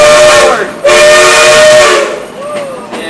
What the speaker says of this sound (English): That whistle you just heard up ahead means we're starting to head down a pretty steep hill.